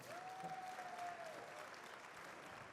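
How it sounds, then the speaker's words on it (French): An audience at a Japan Expo conference on Japanese animation applauds steadily, dense continuous clapping heard at a distance and fairly faint, with a brief whistle-like tone near the start. "Un vrai tonnerre d'applaudissements pour Yves Balak"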